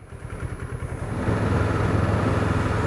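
A 1984 Suzuki GR650 motorcycle engine idles steadily after warming up, a close, continuous low throb that grows a little louder and fuller partway through, with no talking over it.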